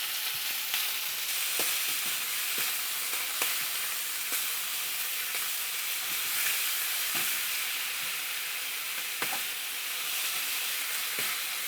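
Pork with ginger sizzles and fries steadily in a hot, smoky pan, a dense continuous crackle with occasional sharper pops, close and even in level throughout, with no voices.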